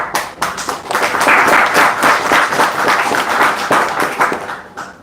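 Audience at a company meeting applauding together, a dense, steady burst of many hands clapping at close to moderate distance, swelling quickly and fading out after a few seconds with no talk over it.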